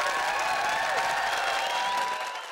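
A studio audience applauds at a sitcom filming, a dense, steady wash of clapping at close range that stays loud throughout and tapers slightly at the end.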